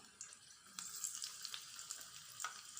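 Red chillies and curry leaves frying in a pan for coconut chutney, a soft, crackling sizzle with small pops and spits, fairly quiet and steady throughout.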